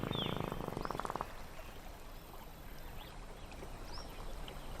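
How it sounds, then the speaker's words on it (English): A male gharial's loud buzzing nasal call, air forced through the nostrils and resonated by his bulbous snout, sounds in the first second over a riverside backdrop of calling frogs and ambient wildlife. "Air squeezed through the male's nostrils is amplified by his bulbous snout. It becomes a loud buzzing sound"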